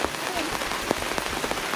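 Rain falling steadily at a campsite during a Land Rover road trip in southern Spain, a close continuous patter with sharp individual drops striking a nearby surface.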